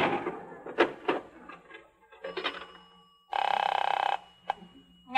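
An old telephone bell rings in one sustained loud electric burst lasting about a second, set among clicks, taps and faint knocking noises in a quiet room, with no voices.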